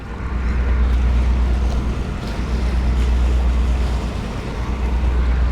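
A barge churns through the Intracoastal Waterway, heard from a nearby kayak as a loud continuous low rumble mixed with wind buffeting and rushing water from its wake swells.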